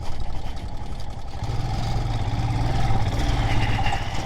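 A Scram motorcycle engine putters at a steady mid-pitched drone on a river track in Vietnam, rising slightly in strength midway, with no talking.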